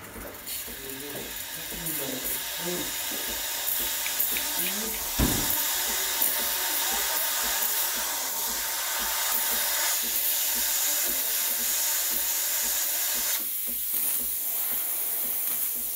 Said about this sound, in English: It'll heat up and give you stronger steam.